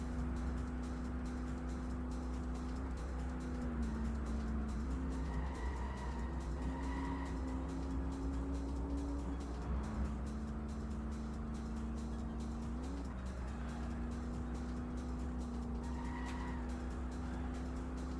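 Racing car engine droning steadily in the Xbox game Apex, its pitch rising and dipping through shifts and corners, with brief tyre skid squeals, loud and continuous throughout.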